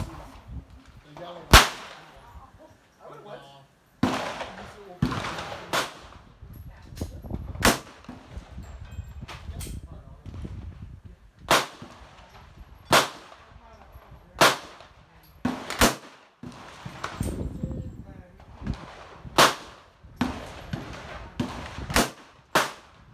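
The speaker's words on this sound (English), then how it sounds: "What I will do is roll in for you 5 shots of this pistol functioning the way it was intended" A Colt 1911 pistol fires outdoors in a back yard: a long series of sharp, loud cracks spaced a second or two apart, each ending in a brief echo, with quiet gaps between.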